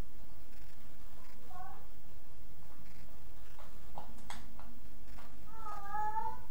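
A cat meows several times in short, wavering cries scattered through the stretch, with a longer, louder meow near the end. Faint background noise runs beneath it, and no one talks.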